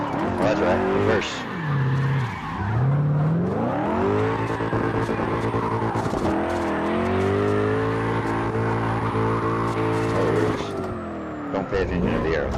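CarX Drift video game drift car, tuned to look like a Forza drift car, its engine sweeping through revs while the tires screech and skid almost continuously, loud and close.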